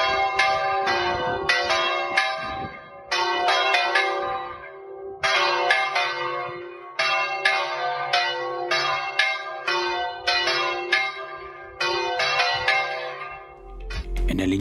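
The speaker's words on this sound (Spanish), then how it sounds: "también el repique alegre de las campanas." Church bells in Villamedianilla, Burgos, Spain, pealing loudly in repeated cascading rounds, bright ringing tones overlapping and decaying, with brief gaps between each peal.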